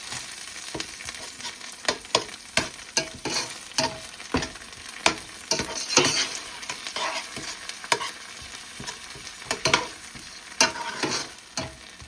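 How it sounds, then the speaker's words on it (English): Tomato paste and blended tomato sauce frying down in oil in a pot for rice and beans, a steady crackling sizzle broken by frequent sharp scraping strokes of a spoon stirring, close and fairly loud with no talking. "So this is gonna fry down a little bit to the oil."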